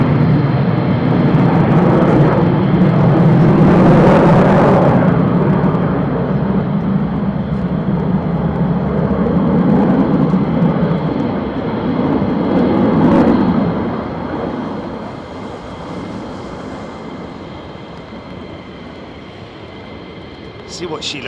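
An F-15 fighter jet flying at RAF Lakenheath gives a loud, rumbling roar that peaks early and then slowly fades into the distance, with people talking over it.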